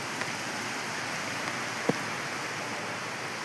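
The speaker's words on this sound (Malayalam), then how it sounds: "നല്ല മഴയുണ്ട്. പിന്നെ ഓണമായിട്ട് നാട്ടിലും നല്ല മഴയും ഇവിടെയും മഴയുണ്ട്." Steady, even hiss of rain falling, soft and continuous, with a faint drip or tap standing out briefly.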